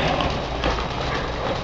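A horse's hooves clip-clop steadily during an advanced schooling exercise at a riding clinic, a brisk continuous beat close by with no talk over it.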